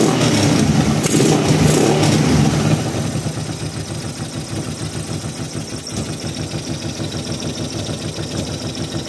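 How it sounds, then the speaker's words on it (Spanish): A cold car engine fires up with a loud, rough burst, then settles into a steady, rhythmic idle that pulses evenly and carries on alone. "Ahora arranca la primera, pero oí los petardazos"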